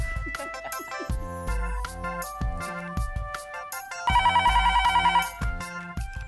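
A phone ringtone plays a bright repeating electronic melody with a bass line, loud and close, and a rapid trilling section near the end, with no voices.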